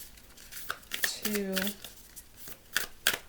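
Tarot cards being shuffled by hand, several crisp riffling bursts close to the mic, with a voice counting between the shuffles.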